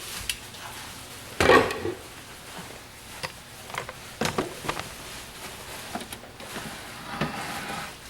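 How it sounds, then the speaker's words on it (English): A spoon stirs goat's milk soap cooking on low heat in a pot, giving intermittent scraping clinks and knocks against the pot sides, with one louder clatter early on and softer taps after it, close and quiet with no talk. "You wanna stir it. And we're still cooking it on low."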